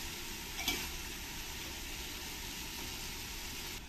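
Spices frying in ghee for vegetable pulao, stirred in a pan, give a steady, fairly quiet broadband sizzle with a faint scrape of stirring early on, no voices.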